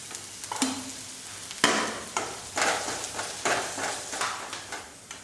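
Spices fry in hot oil for a bitter gourd tamarind curry, giving a steady close sizzle that is broken by repeated scraping stirs at a loose rhythm, with no talk.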